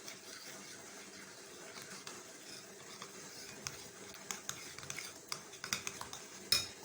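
A spoon stirs coconut powder into a smooth paste in a bowl, giving faint, soft scraping and clinking taps that grow a little more frequent toward the end, with no talk.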